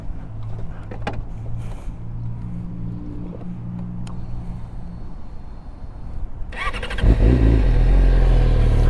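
A 600cc motorcycle sits quietly under faint background noise, then its engine starts suddenly and runs loud and close, the rumble building steadily.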